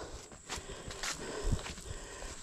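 Footsteps shuffle and crunch through a pig pasture, a few soft irregular steps at close range with faint outdoor background and no talking.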